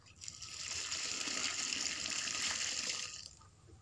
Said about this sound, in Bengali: এরপরে পরিমাণ মতো পানি দিচ্ছি